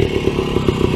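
A WSK 125 two-stroke motorcycle engine runs close by at a steady, rattly idle with a fast pulsing beat, loud and without voices.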